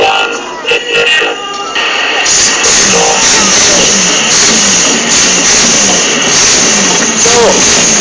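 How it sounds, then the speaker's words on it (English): Twin 7.5-litre, 500-horsepower Chevrolet V8 engines in monster trucks roar loudly and steadily at a show, a dense sustained engine din with a distant crowd mixed in. "the noise you can hear there is the roar of two American V8 Chevrolet engines"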